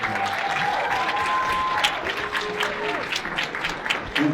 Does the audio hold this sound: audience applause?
yes